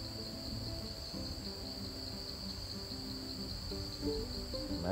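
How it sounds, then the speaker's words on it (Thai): Bees buzz steadily while collecting nectar among flowering Acacia mangium trees, a continuous droning hum with a high insect-like whine sustained throughout. "โอ้เสียงผึ้งเก็บน้ำหวานกันจ้าละวันเลย"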